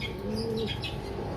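A pigeon gives a single soft, brief coo, close but quiet, against a faint background hum.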